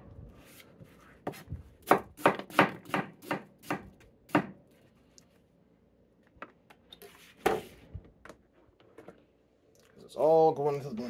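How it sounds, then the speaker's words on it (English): A knife rough-chops squash on a cutting board in a quick burst of sharp knocks, then a few scattered cuts, ending with a short spoken remark. "Again, this can be just rough chopped."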